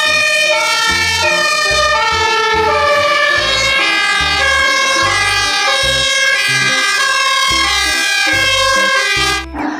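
A toy fire truck siren wails continuously in a looping electronic pattern, loud and close, with a rhythmic beeping underneath, cutting off at the end.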